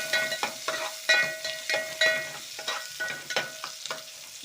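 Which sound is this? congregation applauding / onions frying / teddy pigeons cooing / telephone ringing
onions frying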